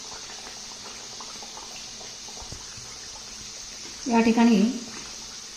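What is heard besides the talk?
pea kachoris frying in hot oil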